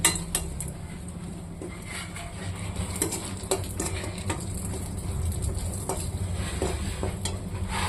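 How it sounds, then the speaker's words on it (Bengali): Dried red chillies fry in hot oil for a chutney, giving a steady low sizzle throughout with scattered clinks of a utensil against the pan, close and moderately loud, with no voices. "আমি একটু শুকনো লঙ্কা চাটনিতে দেবো বলে একটু ভেজে নিয়েছি, ভাজবো"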